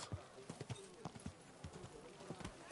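Horse hooves clip-clopping in Kingdom Come: Deliverance 2, a series of sharp irregular knocks over a low ambient bed, fairly quiet, with some voice activity mixed in.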